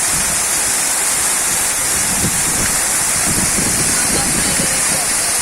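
The Küp waterfalls in Aladağ, Adana roar in a dense, loud, unbroken rush of falling water heard close up, with no speech over it.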